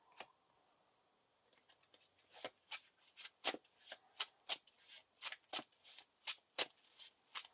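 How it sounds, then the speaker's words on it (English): Lord of the Rings card game cards are shuffled repeatedly, a quick series of crisp riffling snaps at a steady rhythm, close and fairly quiet. "shuffle this back into our deck"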